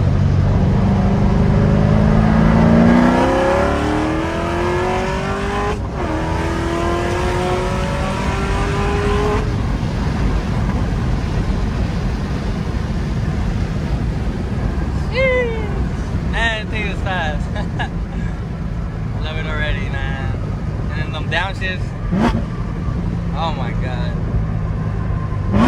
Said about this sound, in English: We're gonna do a second gear pull.